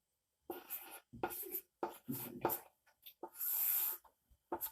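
Pen or pencil writing on paper during a grade 5 math lesson on subtraction word problems, close scratchy strokes in short irregular bursts with brief pauses between them.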